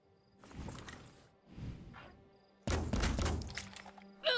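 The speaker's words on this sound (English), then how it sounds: "Got a good hit from the cannon." Cannon fire hitting a target in the tactical video game Phoenix Point: two muffled thuds, then a louder, sharper impact with crunching debris and a brief high ringing at the end.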